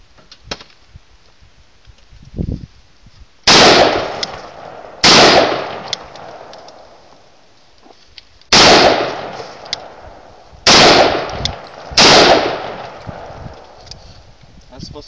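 A gun bump-fired in rapid bursts: five sharp, loud volleys of quick shots, each ringing out briefly, separated by quieter gaps.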